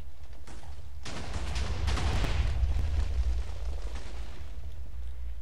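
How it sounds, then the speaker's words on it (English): A TNT block detonates in Minecraft: a loud, sudden blast bursts in after a second and rolls into a long, crackling rumble of debris that slowly fades over several seconds, with no talk. "here we go with TNT explosion"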